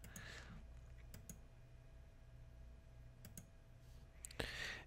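Computer mouse clicking while downloading a data sheet for an FRDM-K64F embedded board, a few sharp close clicks spaced over a steady quiet room hum, no talking.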